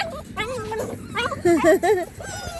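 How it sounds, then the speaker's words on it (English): A litter of Springer Spaniel puppies whimpers and yips in high, wavering cries, several close overlapping voices, with a person talking alongside. "So this is a Springer Spaniel litter."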